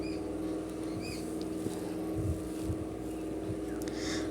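A sewing machine top-stitches a ladies' pant, a steady, fast mechanical whirr with a low rattling hum running continuously throughout, close to the mic, with faint occasional clicks.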